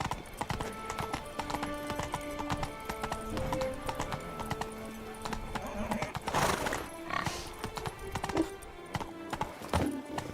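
A horse in the video game Witcher 3 gallops with rapid, continuous hoofbeats close by, and a whinny breaks in near the middle.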